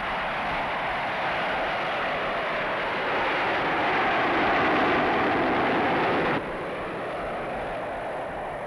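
A Harrier jet aircraft engine roars loudly and continuously with a broad whooshing rush that swells and then drops abruptly to a slightly lower level.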